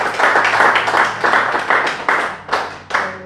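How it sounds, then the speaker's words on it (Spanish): A church congregation claps loudly in a Spanish-language service, the applause coming in rhythmic bursts that pulse roughly twice a second and stay close and strong throughout. "Bríndenle un fuerte aplauso al Señor por eso."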